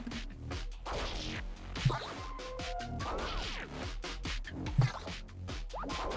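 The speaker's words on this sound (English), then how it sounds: "watch on as Itzo and Carrick slam the head into the ground" In the video game corru.observer, a head is slammed into the ground and smashed repeatedly by fists, giving dull crunching impacts with two sharper hits over a dense, noisy background.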